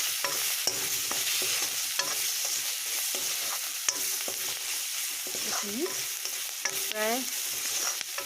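Meat curry with salt and turmeric is stirred in a hot pan, with repeated scraping strokes over a steady sizzle and a brief spoken phrase near the start.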